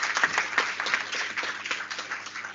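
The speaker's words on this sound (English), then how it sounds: "So please give a big round of applause to all of them." An audience at a university student chapter launch in Jaipur breaks into applause, a dense spread of many hands clapping at moderate volume, heard from somewhat back in the hall.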